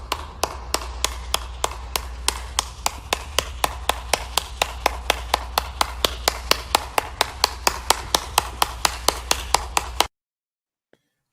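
Steady hand clapping, one pair of hands close by at an even rhythm, about forty sharp claps over ten seconds before stopping abruptly into silence.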